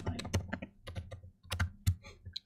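Rapid, uneven keystrokes on a computer keyboard during a coding session, clicking in short bursts with brief pauses, close and fairly quiet with no talk.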